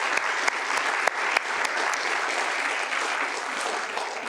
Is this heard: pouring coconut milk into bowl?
no